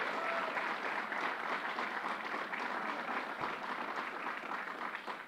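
An audience at a gun violence emergency signing by Governor Cuomo gives Hazel Dukes a round of applause, steady dense clapping filling the whole stretch without letting up.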